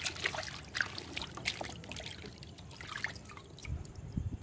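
Pineapples being rinsed in a basin of clear water, faint splashing, dripping and trickling with small irregular sloshes, close and quiet.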